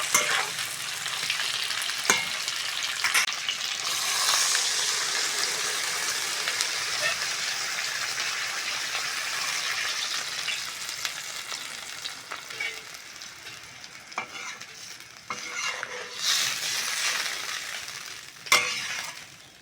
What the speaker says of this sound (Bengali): আলু ফুলকপি ভালো করে ভেজে নিয়েছি